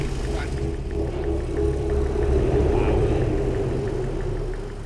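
HGV truck overtaking a cyclist very closely on a road: a steady rumbling diesel engine builds slightly as it passes alongside, loud and near, with wind and road noise throughout.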